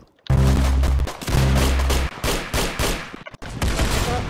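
Rapid automatic gunfire rattles in the Roblox game Arsenal, loud and close. Dense bursts of shots run for about a second each, with a short pause between them and then scattered single shots.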